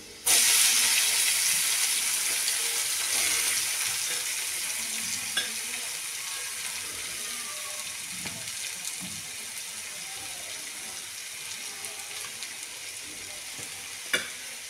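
Spinach hits reddish, browned garlic in a hot pan, setting off a loud, steady sizzle that slowly settles into a softer crackle, broken by faint stirring scrapes and a sharp clink near the end.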